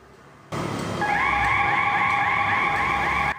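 A motorcycle road-test alarm starts up abruptly after a brief quiet lead-in, a loud wailing electronic siren tone with steadily rising, repeating sweeps that runs for nearly three seconds before cutting off.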